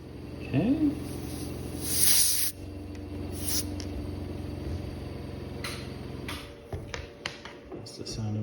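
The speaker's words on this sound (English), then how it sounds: "That's the sound of my compressor." An air compressor runs with a steady broadband hiss and low hum throughout, with a brief louder burst around the two-second mark and small clicks and handling noises on top, in a watch-servicing workshop.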